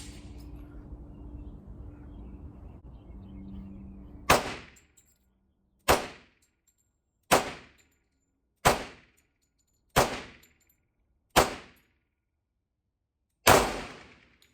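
A Colt 70 Series pistol firing on an outdoor range, seven sharp close reports spaced a second or two apart, each ringing off into silence, after a few seconds of quiet background murmur.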